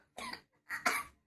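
A child coughs twice close by, two short rough bursts separated by a brief pause, with no talking.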